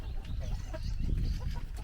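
Chickens on a farm in Norway cluck and murmur softly at close range in a brief burst, with faint farmyard background and no talking.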